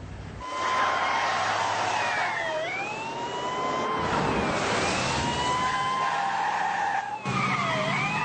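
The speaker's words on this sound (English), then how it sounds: "Where's the siren on this thing?" Emergency vehicle siren wailing loudly, rising and falling sweeps repeating over a rumbling engine and road noise, no speech.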